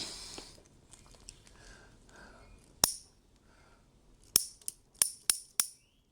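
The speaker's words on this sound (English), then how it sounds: "This is your leash clicking, mate." Crisp metallic clicks of a dog leash, one early and then a quick cluster of four or five, close and sharp against a quiet background.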